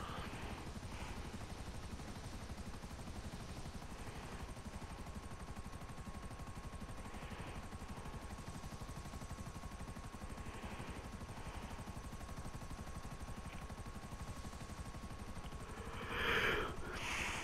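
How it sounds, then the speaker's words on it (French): Buzzard helicopter in GTA 5 Online, its rotor thumping in a steady, loud, unbroken drone throughout, with a brief louder burst near the end. "Il est tellement bien cet hélicoptère."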